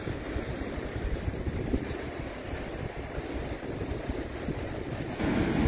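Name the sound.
wind at the beach cliffs, wind noise on phone microphone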